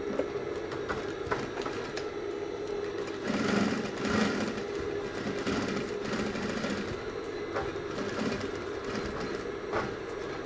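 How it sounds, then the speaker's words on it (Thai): A sewing machine stitches a trouser hip seam twice over, running in a steady fast rattle close by with slight changes in pace and brief pauses, and no talk. "ตรงสะโพกนะฮะเราจะเย็บซ้ำสองเที่ยวนะ"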